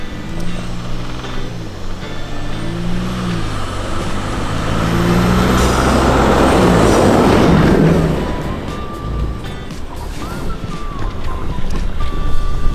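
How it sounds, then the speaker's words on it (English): A 2019 Ford Raptor brakes hard from 30 mph on a snowy road, a swelling rush of tyre and wind noise peaking mid-clip before easing off, over a steady low engine rumble. "I'm just going to hit my brakes hard."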